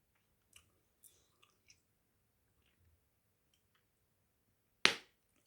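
Hubba Bubba bubble gum being chewed close to the mic, with a few soft, sparse clicks and smacks in near-silence, then one sharp, loud bubble pop near the end.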